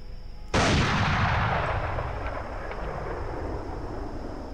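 A single heavy sniper shot booms in a video game, a sharp close blast followed by a long rumbling decay that fades slowly over several seconds.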